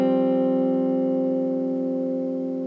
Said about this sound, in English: you just play the D,